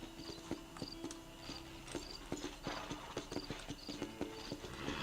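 Horse hooves clip-clop in the Red Dead Redemption video game, a close, steady walking rhythm of hollow knocks over a bed of chirping crickets and soft ambience.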